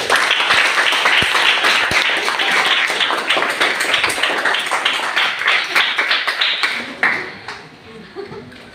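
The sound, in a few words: children clapping for a classmate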